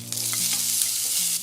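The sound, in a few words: stir-frying chicken breast steak pieces in oil in frying pan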